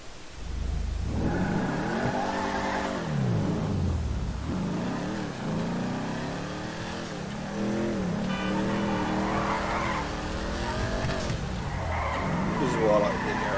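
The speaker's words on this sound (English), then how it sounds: "Listen to that engine." A muscle car in a video game garage revs and roars repeatedly, its engine climbing and dropping through several bursts with tire squeal, a person talking over the sound.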